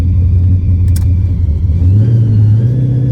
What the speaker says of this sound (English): They probably don't get loud cars driving through here very often.